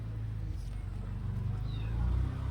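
A cat meows faintly in a rain-soaked garden after a summer shower, its cry thin and distant over a steady low background hum.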